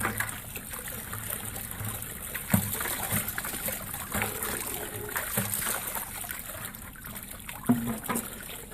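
Water trickles and splashes softly as a gold pan is rinsed during gold prospecting, a steady low wash with a couple of brief sharper sloshes, fairly close and moderately quiet, with no talking.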